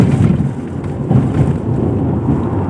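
Sudden heavy rain with rumbling thunder, a loud continuous low roar and wash of rain with buffeting wind noise, no voices.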